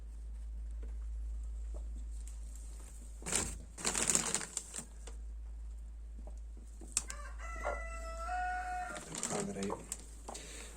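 A hen and chicks cluck and chirp in short bursts, including a rising squawk, over a steady low electrical hum; a few faint clicks and rustles between calls.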